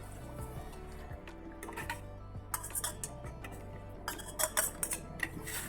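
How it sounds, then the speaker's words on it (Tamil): A spoon scrapes and clinks against a pot of custard in soft, irregular strokes, quiet and close, with occasional sharper taps. "கிளறி விட்டுட்டே இருங்க."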